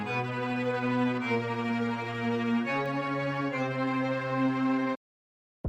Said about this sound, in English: So the strings I added is a violin tremolo from Sinful Orchestra, as well as a bigger four-man string from Xband